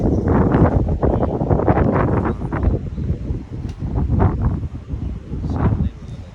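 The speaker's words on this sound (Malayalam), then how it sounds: "നല്ല കാറ്റുണ്ട് കേട്ടോ" Strong wind blows outdoors in Sharjah, buffeting the microphone in loud, uneven gusts that rise and fall throughout.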